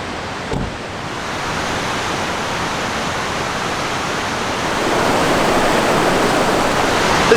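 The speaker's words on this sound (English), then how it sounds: "It is right on the river here." A river rushes past a wilderness campsite, a loud, steady broadband roar of flowing water that swells slightly louder partway through, with no voices.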